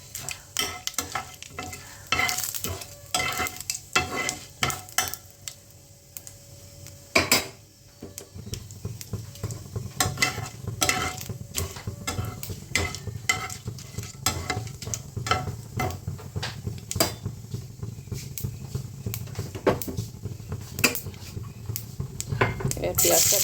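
Onion and garlic frying in a pan with cumin for ghugni, a loud steady sizzle with frequent clattering spatula strokes and scrapes against the pan, growing denser and louder after onions go in.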